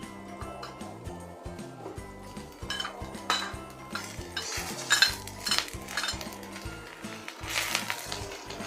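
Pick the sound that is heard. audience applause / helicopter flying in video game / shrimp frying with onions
shrimp frying with onions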